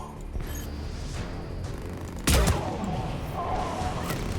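Gunfire in the video game Mass Effect 3: one sudden loud burst of shots cuts in about halfway and then trails off into rumbling game ambience.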